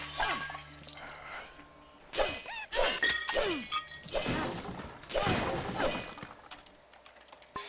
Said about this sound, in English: She keeps jumping on my keyboard.